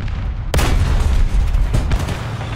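A T-90M tank in War Thunder fires its main cannon: a sharp, heavy boom that rolls out loudly, followed by a second, lighter blast a little over a second later.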